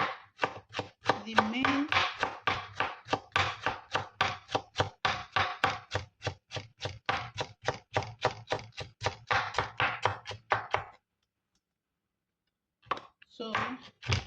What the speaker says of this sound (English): first I will be cutting my okra